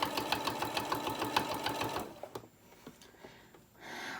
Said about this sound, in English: slowly do a top stitch all the way around